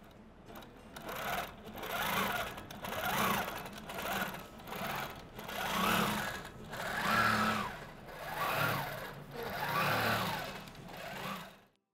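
A longarm quilting machine stitching across a quilt, its rapid needle chatter rising and falling in regular swells as the head moves along each pass, close and steady for the full stretch without talk.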